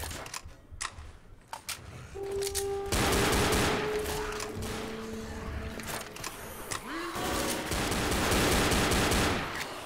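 Rapid bursts of automatic gunfire from the zombie shooter game Left 4 Dead, loud sustained volleys separated by brief pauses, with a few rising electronic tones layered among the shots.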